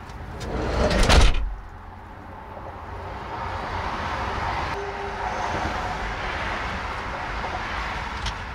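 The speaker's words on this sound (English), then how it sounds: "Chris, will you just shut that door for me?" A door in a tiny house shuts with a loud, short sliding thud near the start, followed by quiet room tone.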